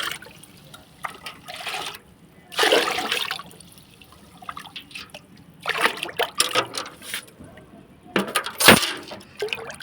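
Homemade liquid fertilizer from food scraps, diluted in five liters of water, poured onto plants in several separate bursts of splashing and trickling, with quiet gaps between pours and no talking.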